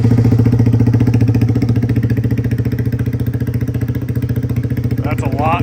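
A Honda Grom motorcycle with a new Vance and Hines exhaust idles close by, giving a steady, loud, deep burble with an even pulsing rhythm throughout.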